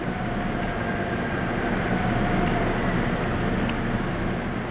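A subway train arrives and runs along the track, a steady loud rumble with a faint whine holding throughout, no one speaking.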